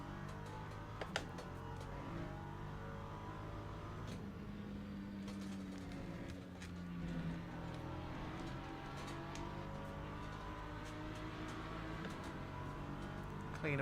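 Lamborghini race car engines in Le Mans Ultimate, a steady buzzing engine drone with shifting pitch and occasional revs, moderately loud and continuous, with some faint clicks over the top.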